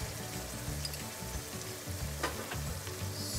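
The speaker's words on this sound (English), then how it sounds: "a slight toss to the green chilies and capsicum" Green chilies and capsicum sizzle and fry in a hot pan, with a crackling hiss that swells and fades as the vegetables are tossed and stirred, close and steady.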